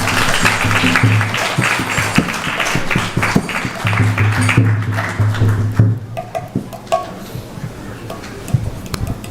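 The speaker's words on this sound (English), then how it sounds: "Please give them a big round of applause" Audience applause for sponsors at a Sunday temple feast program, a hall of people clapping steadily and fairly close, fading out partway through, with a voice briefly heard over it.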